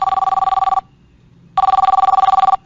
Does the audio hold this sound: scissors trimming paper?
no